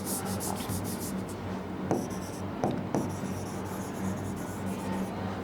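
Marker or chalk scratching across a classroom board as a chemistry teacher writes in a different colour, steady close rubbing strokes with a few sharper taps, over a low background hum and no talking.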